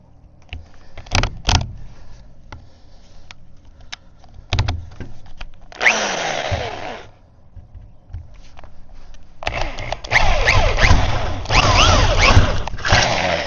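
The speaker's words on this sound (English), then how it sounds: "we'll go with the big drill bit first" A power drill with a big bit whirs in bursts through a metal door, one short run and then a longer grinding stretch, among clicks, knocks and handling noises close by.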